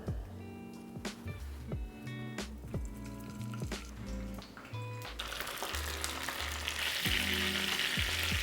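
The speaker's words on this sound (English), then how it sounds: "Capers, I wanna make sure these are relatively dry when you drop them in the oil." Capers fry in hot high-smoke-point oil, with a sizzle that swells and grows louder toward the end, partly under a rhythmic music bed.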